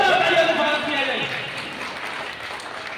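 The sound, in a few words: applause at a celebration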